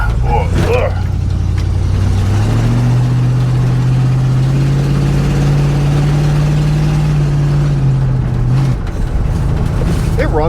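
A 1986 Ford F-150 bull-nose short bed truck engine idles steadily and loudly up close, with a low rumbling drone that rises a little in pitch mid-clip, then drops back.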